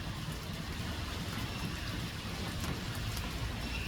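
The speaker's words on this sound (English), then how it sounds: "Well, the creek sounds nice. A little bit of rain." Light rain falls outdoors beside a flowing creek, a dense steady patter and rushing water, continuous and even throughout with no voices.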